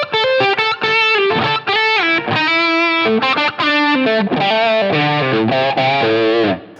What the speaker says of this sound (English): A nice smooth overdrive.